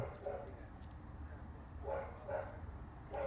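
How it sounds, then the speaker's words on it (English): A pet dog barks indoors in a few short, muffled bursts, spaced apart and moderately distant, over a steady low background hum. "I'm kind of getting irritated hearing my dog bark."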